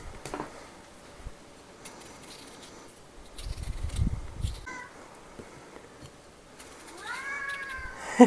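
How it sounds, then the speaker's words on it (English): A cat meows a few times, short drawn-out cries spaced apart against a quiet room with some soft handling noise. "My kitty's meowing."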